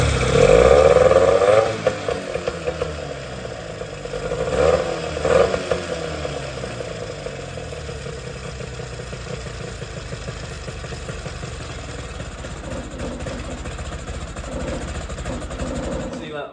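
An old outboard motor on a jon boat, unrun for five years, revving briefly and then settling into a rough, very low, uneven idle that chugs steadily and up close, with someone talking near the start.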